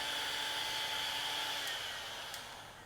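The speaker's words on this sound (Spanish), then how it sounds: "cuando usen la pistola de calor, después de terminar de utilizarla, pónganla a la temperatura más baja y dejen que sople un momento" A heat gun set to its lowest temperature blows steadily to cool down, a continuous airy whir with a faint motor whine that gradually fades toward the end.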